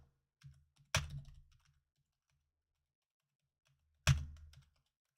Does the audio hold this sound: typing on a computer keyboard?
yes